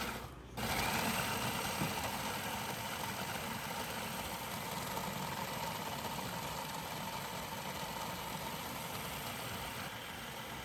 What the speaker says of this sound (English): cover our food processor and process the ingredients for about 3 minutes